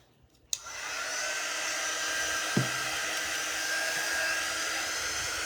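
A hair dryer switches on and runs steadily to dry paint on wooden stars, a close, even whooshing blow with a small knock partway through.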